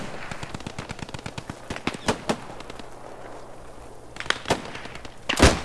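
Machine gun fire crackles in the World War II shooter Post Scriptum, with rapid bursts of sharp shots and a few louder nearby cracks over a steady rumbling background.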